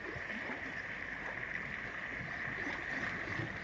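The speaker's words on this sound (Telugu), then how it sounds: "గోదావరి ఇంత నిండుగా పారుతుంది" The Godavari river at Dharmapuri runs in flood, a steady, faint rushing wash of water heard from a distance with no talking.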